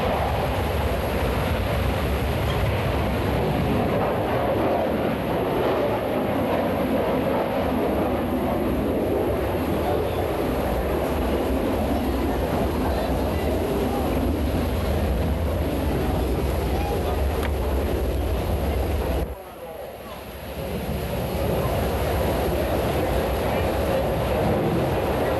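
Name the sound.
Blue Angel jet accelerating on takeoff roll at airshow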